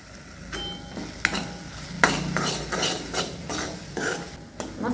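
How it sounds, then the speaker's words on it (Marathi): Masala with turmeric and salt frying in oil for a green-chilli eggplant dish, a steady close sizzle broken by repeated scraping stir strokes and clinks of the spoon against the pan, with no talk. "मसाल्याला ऑइल सुटेपर्यंत फ्राय करून घेऊया"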